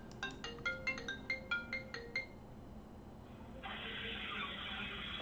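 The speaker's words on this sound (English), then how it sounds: "my phone always ring every time I make a video" A mobile phone ringtone chimes in a quick run of about ten bright, evenly spaced tones, then gives way to a steady hiss, heard during a home tire change.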